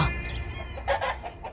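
A hen clucks close by in short, bursty calls, a few quick clucks in a row over a low background hum.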